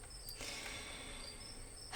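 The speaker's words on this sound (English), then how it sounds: "Crickets singing quietly in the sleepy little neighborhood." Crickets chirp steadily at night in the quiet neighborhood of the video game Scarlet Hollow, a soft continuous high trill at low volume.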